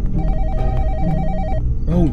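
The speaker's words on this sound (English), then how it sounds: "Don't even answer the phone, bro. Don't answer the phone." A telephone rings in a horror video game with a warbling electronic bell tone pulsing for about a second and a half, loud and close, while a player talks over the game audio.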